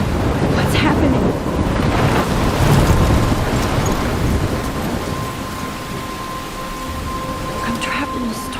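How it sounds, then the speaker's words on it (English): A thunderstorm with heavy rain pouring steadily, low rumbles of thunder rolling through, and a faint tone running along beneath the downpour. "I'm trapped in a storm?"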